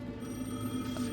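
Phone ringing in the game Alan Wake 2, a steady electronic ring tone heard faintly and continuously over a low hum for about a second.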